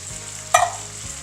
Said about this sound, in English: Now we're going to stir it to combine and let it heat through.